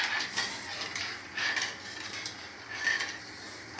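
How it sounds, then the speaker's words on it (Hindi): A spoon scrapes and stirs semolina in a pan as water is added for suji halwa, giving three rhythmic bursts of gritty scraping spaced about a second apart, close and moderately quiet. "अब मैं इसमें पानी डालती हूँ। पानी डालते टाइम ना सूजी को इस तरह से चलाते रहना चाहिए"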